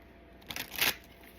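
A brief, quiet riffle of tarot or oracle cards being shuffled, two short papery bursts in quick succession against a near-silent background.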